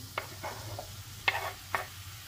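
Chopped oyster mushrooms frying in oil in a pan, a soft, low sizzle near the mic with a few short utensil scrapes and taps.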